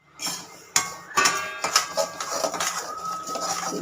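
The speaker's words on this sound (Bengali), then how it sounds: "সুজিটা আমি পুরো ভেজে রেখে দেবো" Semolina dry-roasting in a pan, stirred with a metal utensil that clanks and scrapes in irregular close strokes, with a sharp knock near the start.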